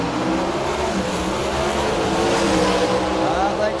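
Hemi-powered drag race cars launch down the strip with a loud, roaring rush of engines rising in pitch, with an announcer talking over the din.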